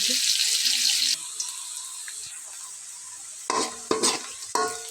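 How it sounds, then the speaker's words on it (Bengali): Onion and garlic frying in oil in a wok, a steady broadband sizzle for about a second that then drops to a softer crackle, followed by a few louder stirring scrapes near the end. "এখানে কড়াই বসানো হয়ে গেছে রান্না করার জন্য এখানে পরিমাণ মতো তেল দেওয়া হয়েছে পেঁয়াজ রসুন বাজা হয়েছে"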